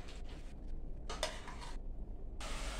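Chicken pieces with turmeric being stirred in a pan for a pepper chicken fry, giving bursts of scraping and clinking that come and go, close and moderately loud, with no voices.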